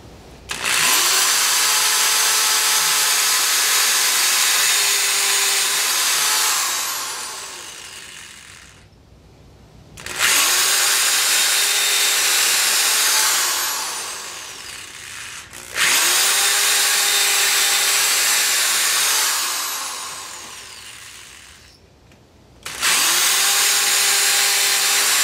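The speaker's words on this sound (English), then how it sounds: "I'm fixing to drill some pilot holes, and we'll screw and glue this guy together." A power drill bores pilot holes into wood for a shaving horse, sounding as three long, loud, steady whining runs, each winding down before a short pause, with no talking.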